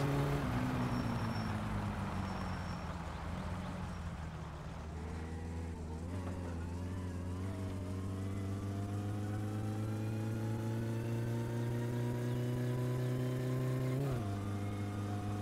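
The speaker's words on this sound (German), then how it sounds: "Ich finde es immer noch krass, wenn das Auto so schnurrt wie so ein Kätzchen." A car engine in the My Summer Car driving game idles and then revs smoothly, its low droning tone rising steadily in pitch over several seconds before dropping back. The engine runs steady and prominent, with no clear talk.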